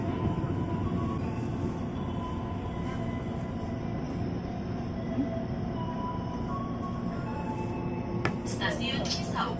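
A KRL Commuter Line electric train pulls into Cisauk station, heard from inside the carriage as a steady low rumble and hum of wheels and motors, with people talking nearby and a brief burst of clatter near the end.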